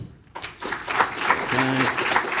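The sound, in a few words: audience applause at a conference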